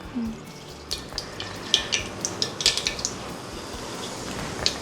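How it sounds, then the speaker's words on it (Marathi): Mustard and cumin seeds hit hot oil in a home kitchen pan, crackling with a run of sharp, close pops and spits over a soft, steady sizzle. "आता ह्याच्यात टाकणार आहे आपण जिरा मोहरी मी मोहरी टाकते तू जिरे टाक"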